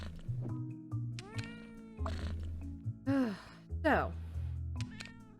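A cat meows several times up close in a quiet room, with drawn-out, rising and falling cries, and a voice speaks briefly between them.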